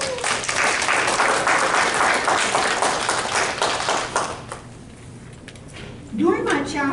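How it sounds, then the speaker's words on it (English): A crowd claps hands at a Still I Rise Healthy for the Holidays gathering, a dense, loud burst of applause that fades after about four seconds, leaving a quieter stretch before a voice begins speaking near the end. "if you believe in miracles, clap your hands."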